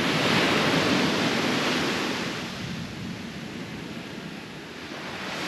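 Waves break steadily on Southbourne Beach in Dorset during a beach fishing session, a broad close wash of surf that swells loudest at the start and eases slightly, with faint wind and no voices.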